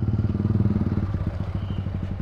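Motorcycle fitted with an aftermarket exhaust rolls along with the clutch held in, giving a loud, steady low-pitched engine putter with a fast pulsing beat, close up and without any speech.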